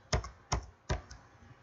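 Three sharp keystrokes on a computer keyboard, evenly spaced and close up, each a crisp click with a faint follow-up tap, in an otherwise quiet room.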